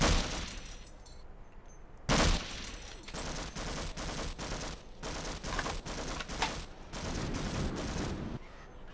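Rapid gunfire from the Half-Life video game, a dense burst of automatic shots after a sharp blast, continuing in steady bursts with short gaps, loud and close.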